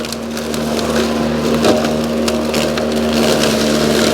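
A DeWALT DCMWSP156 2x18V cordless self-propelled lawn mower cuts through small twigs, giving a steady loud motor hum with a constant tone and scattered crackling snaps of wood, with no talk.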